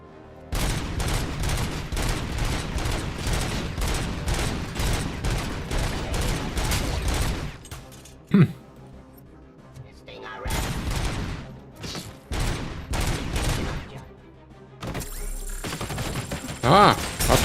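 Rapid bursts of gunfire in the shooter game RoboCop: Rogue City, where a sniper has opened up. Dense volleys sound loud and continuous for about eight seconds, then shorter bursts and a single sharp crack follow, with game effects at the end.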